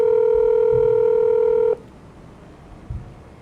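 A steady phone dial tone from Farming Simulator 25 holds loud and even for almost two seconds, then cuts off sharply, leaving quiet background with a faint low thump afterward.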